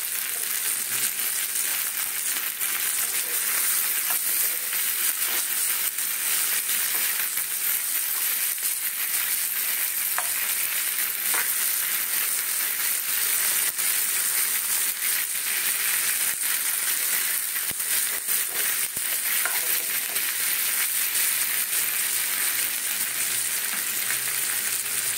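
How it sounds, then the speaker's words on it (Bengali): Butter sizzles in a pan with frying meat, a steady bright crackle that holds close and loud throughout, with occasional faint scrapes and no voices. "এইবারে দেবো একটু বাটার"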